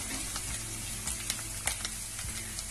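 Coriander leaves and garam masala fry in hot oil for a Maharashtrian masvadi rassa, giving a fairly quiet, continuous sizzle with scattered sharp crackles and pops, and no talking.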